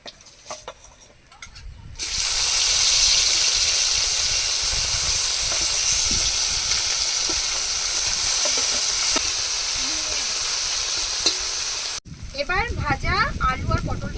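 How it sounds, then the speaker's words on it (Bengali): Small mourala fish drop into hot oil and set off a loud, steady frying hiss that lasts several seconds, then cuts off abruptly, followed by a softer, busier sizzle. "এবার এই তেলের মধ্যেই দিয়ে দেবো এই ছোট ছোট মৌরালা মাছগুলো"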